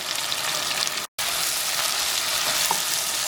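Onions and green chillies with curry leaves sizzle loudly in hot oil in a pan for a shallot tamarind curry, a steady crackling hiss broken by one brief silent gap.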